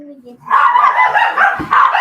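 A dog nearby gives a loud run of sharp barks and yips after a brief quiet moment, close and insistent.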